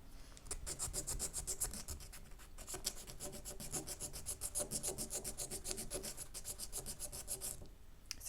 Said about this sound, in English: So we're just roughing up the back.